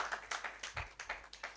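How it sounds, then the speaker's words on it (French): A church congregation clapping together in a steady rhythm, about eight claps per second-and-a-half, close and moderately loud with no voices over it. "I said, celebrate Jesus with a hand clap, everybody."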